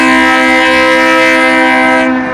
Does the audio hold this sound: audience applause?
no